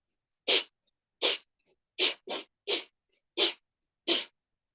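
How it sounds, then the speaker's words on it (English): Fire breathing through the nose gives seven quick, forceful breath bursts in an uneven pumping rhythm, close and breathy, each sharp and short with brief silences between. "fire breathing is in through the nose, out through the nose, and quick"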